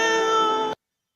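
A person imitates a cat's meow with a single, steady, close, fairly loud tone that stops abruptly, followed by silence.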